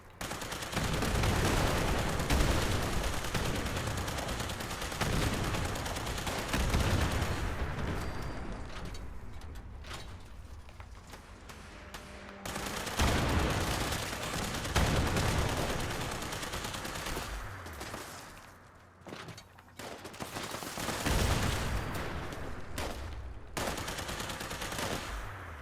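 Explosive Tesla rifle fire in Fallout 76 crackles in dense, continuous bursts with booming impacts and short lulls, loud and sustained throughout the combat sequence.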